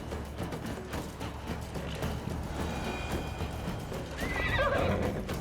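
A horse in Assassin's Creed Valhalla clip-clops steadily as it runs and jumps, then lets out a loud whinny near the end over ambient game sound.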